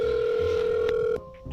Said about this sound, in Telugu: అరే ఈ టైంలో ఎవర్రా ఫోన్ చేసేది?